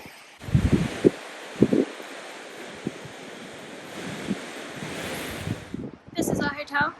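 High-tide sea waves wash in a steady broad roar on the Blackpool seafront, with wind buffeting the microphone and a few bursts of nearby talk over the surf.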